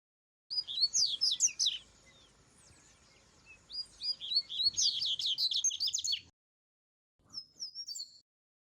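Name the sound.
coleiro (double-collared seedeater) bird song dialect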